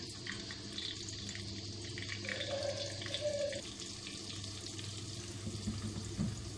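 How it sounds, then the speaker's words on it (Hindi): Chopped onions fry in hot oil in a pan, giving a steady, moderately quiet sizzle with a few brief crackles and no voices. "प्याज फ्राई हो रहे हैं।"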